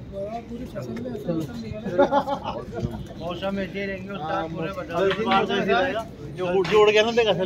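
Pigeons coo repeatedly in a soft, rolling rhythm, close by, at a pigeon-flying competition in Uttar Pradesh, while people talk in the background.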